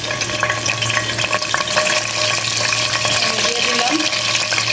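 Whole dry spices, cinnamon, cloves, cardamom, black peppercorns and bay leaves, frying in hot oil with a steady close crackling sizzle and scattered pops.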